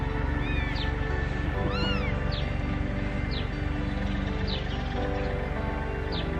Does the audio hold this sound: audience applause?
no